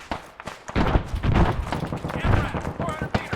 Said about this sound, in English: Oh, that is a heavy machine gun up there, too.